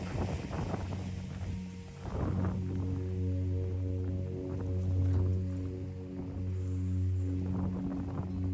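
Coastal wind blows steadily across the microphone on a windswept shore, a continuous low roar with gusts and some rumble, while a low steady drone runs underneath.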